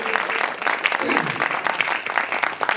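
Audience clapping at a Hindi kavi sammelan poetry gathering, dense and steady across the whole stretch, with a voice speaking over the applause.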